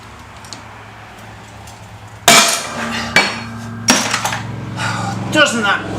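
Steering stem being pressed out of a Yamaha Commando motorcycle after weld removal, giving a loud sudden bang followed by several sharp metallic knocks and clanks close by.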